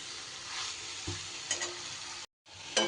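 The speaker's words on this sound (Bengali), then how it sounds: "মশলার সাথেও কিন্তু ভেন্ডি আমার খুব ভালো করে মেশানো হয়ে গেছে।" Okra tossed with spices in a frying pan, stirred with soft scrapes over a steady hot-oil sizzle, briefly cutting out before resuming, with no voices.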